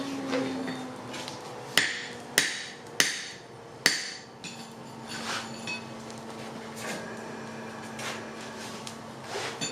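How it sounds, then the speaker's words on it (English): Hammers striking hot metal at a forge ring out in four sharp, evenly spaced blows, then softer taps follow over a low steady hum and background clatter. "the sound of hammers, Yamez's soothing voice."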